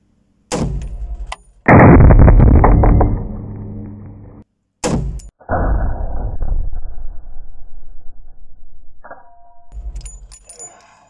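A Browning BAR Mk II semi-automatic rifle in .300 Win Mag fires a few loud, close shots at a range, each a sharp report with a long, rumbling decay and spaced several seconds apart.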